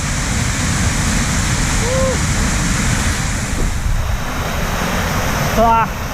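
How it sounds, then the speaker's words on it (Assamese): Constant heavy roar of Sirki waterfall near Pasighat, Arunachal Pradesh, with a brief voice and a few faint tonal chirps over the steady rumble. "কি ধুনীয়া এটা ৱাটাৰফল"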